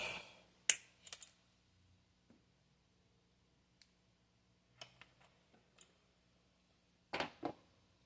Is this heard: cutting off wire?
yes